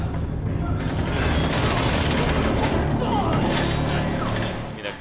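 Dense, continuous gunfire from Wolfenstein II: The New Colossus, a sustained fusillade of rapid shots and crashing impacts, loud and close throughout, tapering slightly at the end.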